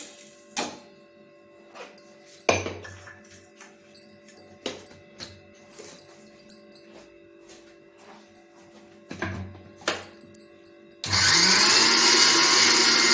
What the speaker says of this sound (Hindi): अब पहले मैं सारे ये ओट्स जो हैं इनको मैं मिक्सी में पीस लेती हूँ